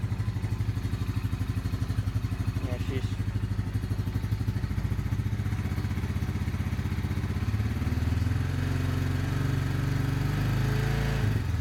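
A warmed-up Honda motorcycle engine idles with a steady rapid clattering pulse, close and even, rising slightly near the end as it is blipped, no speech.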